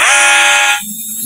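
An electronic alarm in the horror video game Granny Chapter 3 blares as a loud, steady, high-pitched tone for most of a second, then cuts off abruptly, leaving faint background noise.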